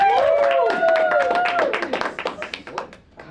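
A Bushwick comedy club crowd voting by noise for comedian Jenna, with loud whoops and cheering that give way to scattered, thinning claps and fade toward the end.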